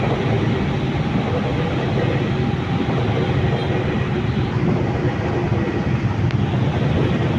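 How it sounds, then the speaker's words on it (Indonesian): Commuter train from Tanah Abang to Rangkasbitung passing at night in Jakarta, a loud, continuous rail rumble and roar that holds steady throughout. "Kereta api, train, kereta api dari Tanah Abang menuju Rangkas Bitung yang terakhir."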